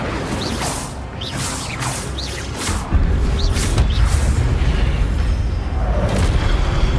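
Hogwarts Legacy spellcasting, the Incendio fire spell among them: a rapid run of whooshing casts and crackling magical bursts, ending in a heavy rumbling boom and a sustained roar, loud and with no speech.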